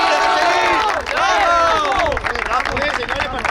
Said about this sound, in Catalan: Aplaudir, señores